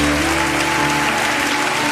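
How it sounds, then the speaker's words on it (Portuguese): Worshippers clap at a church service, dense continuous applause filling the space for two seconds, with faint voices mixed in. "Você pode aplaudir o Senhor"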